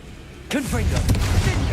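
Confringo blast spell cast in the video game Hogwarts Legacy: a sudden loud burst with swooping, whistling tones, then a sustained crackling fiery rush that fills the rest of the moment.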